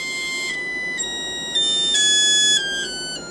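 A 1 kHz test tone played through a magnetostatic speaker driven by an isolated H-bridge, heard as a loud, steady, buzzy electronic tone with strong harmonics, shifting pitch in a few abrupt steps.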